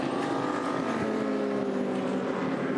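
V8 touring cars racing at Winton, a steady loud engine drone with layered harmonic whine held throughout, several cars blending together at close-to-moderate distance, no talk.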